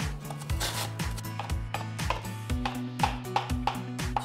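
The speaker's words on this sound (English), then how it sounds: "I will probably cut those just a little bit more" A knife chops an organic apple into small pieces on a board, with steady, close, rhythmic thuds about twice per second under a continuous background tone.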